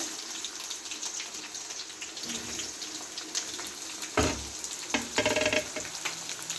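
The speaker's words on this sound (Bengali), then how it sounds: "একটা বড় পেঁয়াজ লম্বা লম্বা করে কেটে রেখেছি পেঁয়াজটাকেই ভেজে নেবো" Long-sliced onion frying in oil in a home kitchen, a continuous close sizzle with scraping stirs, then a burst of louder crackling and spatter near the end.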